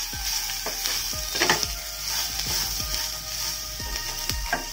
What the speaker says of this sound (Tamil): கடைசியா நம்ம துருவி வச்சிருக்க தேங்காயை ஆட் பண்ணிக்கலாங்க ஆட் பண்ணிட்டு இது ஒரு நிமிஷம் ஆயில ஃப்ரை பண்ணிட்டு ஆஃப் பண்ணிக்கலாம்